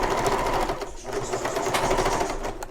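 A sewing machine runs steadily while basting around the pocket edges of a shoulder bag, a loud, close, continuous whirring needle rhythm with one brief dip partway through.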